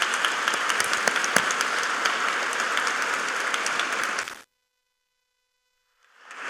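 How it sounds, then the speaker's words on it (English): An audience applauds at a cancer foundation gala honouring patients, steady dense clapping for about four seconds that cuts off abruptly into silence, then a fresh burst begins to rise near the end. "Please give them a round of applause."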